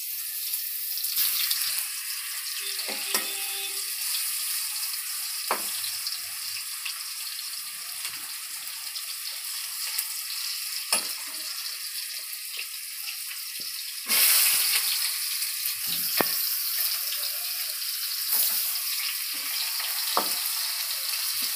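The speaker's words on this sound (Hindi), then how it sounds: "इसको हम कटहल को अच्छे से डाल देंगे। इसको ऐसे ही फ्राई कीजिएगा अच्छे से।" Jackfruit pieces fry in oil in a pan for a Bihari-style sabji, a steady close hiss of sizzling with occasional spatula scrapes and clacks, loud and unbroken throughout, with one brief surge partway through.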